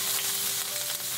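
Cumin and ginger frying in hot olive oil, a steady broadband sizzle that stays loud and even across the short stretch, with no voices.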